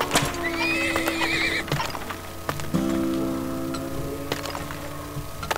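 Horse in the video game Turmoil gives a loud whinny, then clip-clop hoofbeats tap along with game clicks and ticks, with no talk.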